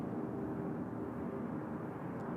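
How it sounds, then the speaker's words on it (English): An Asiana Airbus A380 airliner taxis at Incheon airport, a faint, distant, steady engine roar. "Asiana A380 taxiing out in a few minutes."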